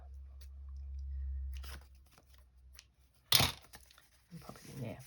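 Scissors trimming paper for a junk journal, with a low hum and soft rustling giving way to a sharp cut and crinkly paper handling nearby.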